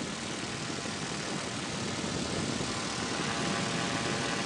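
A gyrocopter engine drones steadily in flight over England as the aircraft holds nearly stationary into the wind, a constant loud broadband roar with no pauses.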